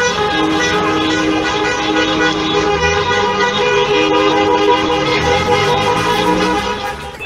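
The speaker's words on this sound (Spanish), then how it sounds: "la cantidad de autos de bocinazos que siguen haciéndose escuchar por este no a la reforma" Many car horns honk in protest outside a government house, a dense sustained chorus of overlapping toots and blares with traffic rumble beneath, loud and continuous throughout.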